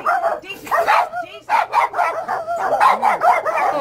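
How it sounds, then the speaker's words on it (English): Several small dogs yapping and barking in quick, overlapping bursts close by, with a few whimpering, high-pitched yips. "And this is their puppies."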